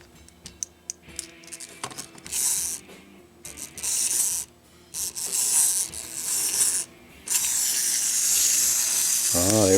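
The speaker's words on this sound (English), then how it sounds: "think the motors just need to be worked a little bit." Small motors in an old Pee Wee toy playset whir and grind in short stop-start bursts, some ratcheting clicks between them, close and fairly quiet.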